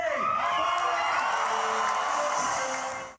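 Large Comic-Con crowd in New York roaring and cheering for Michael J. Fox, a dense, sustained wall of shouts and whoops that cuts off abruptly.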